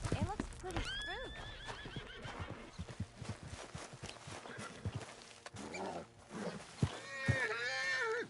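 Horses in Red Dead Redemption 2 whinny and neigh repeatedly in rising, wavering calls, with hooves clip-clopping throughout and a voice speaking over them.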